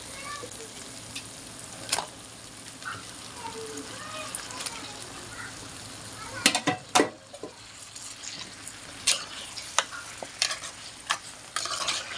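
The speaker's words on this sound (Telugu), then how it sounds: "ఆనియన్స్ అయితే ఫ్రై అయిపోయినాయి చికెన్ వేసేస్తున్నాను" Chicken pieces dropped into a pan of fried onions for a home-style curry, a low sizzle with scattered stirring scrapes and clatters, some louder knocks partway through, close-miked.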